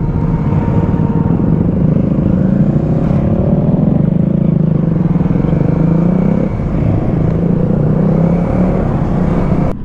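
Motorcycle riding on the road into Penang island, its engine drone and wind rumble steady and close throughout, with slight shifts in pitch as the bike holds speed.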